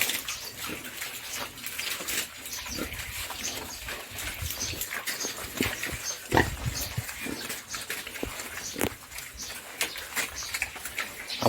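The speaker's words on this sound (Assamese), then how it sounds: "গাহৰি দুপৰীয়া সময়ত এনেকৈ কলপাত অকণমান দিলে" Pigs at a farm in Assam feed on banana leaves, giving close, continuous grunting, snuffling and wet chewing with scattered crunches. Faint birdsong runs in the background, and no one speaks.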